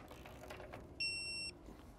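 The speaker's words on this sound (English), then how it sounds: "This one beeps, yours may click." A steady electronic beep rings out for about half a second over low background noise, a single clean tone from a torque wrench reaching its 45 foot-pound setting on a floor chain.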